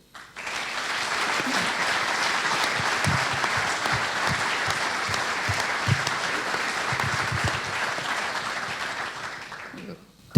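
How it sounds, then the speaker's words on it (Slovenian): A large audience at a football centenary celebration in Tolmin claps for the coaches in sustained, dense applause lasting about ten seconds, steady and loud throughout before cutting off. "res en velik aplavz se mi zdi vsem trenerjem"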